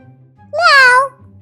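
A cat gives one clear, close meow lasting about half a second over a quiet low background hum.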